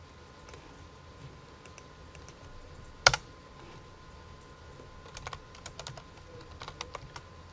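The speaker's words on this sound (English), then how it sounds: "Type a character, type a number." Sparse keystrokes on a computer keyboard, with one sharp loud clack early on and a later flurry of quick, light taps in a quiet room.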